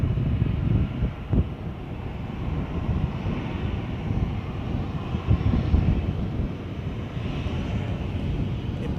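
An Airbus A321 from Frankfurt on final approach at Edinburgh, a steady broad jet-engine roar with wind buffeting the microphone, sustained and fairly loud throughout without any talk.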